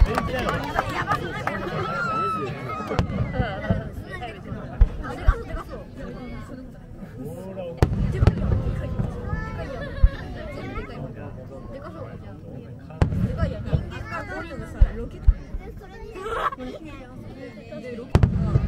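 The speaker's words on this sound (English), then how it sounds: "Enjoy the firework." Fireworks popping and bursting repeatedly in the distance at the Fukuchiyama fireworks festival, under steady crowd chatter and nearby voices talking throughout.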